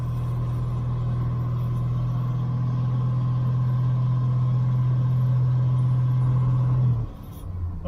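Jeep CJ engine fitted with Holley Pro-Jection fuel injection, idling steadily with a deep even hum at close range, then abruptly dropping off near the end.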